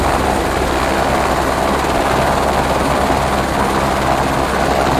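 Helicopter rotor in the video game Squad, a steady, loud, continuous thrum and whine filling the clip without pause, close and unbroken, with no voices over it.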